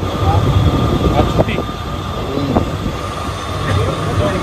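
Loud rumbling train noise with screeching metal and a busy Mumbai suburban station hum, people talking faintly underneath.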